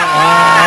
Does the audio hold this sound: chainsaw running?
yes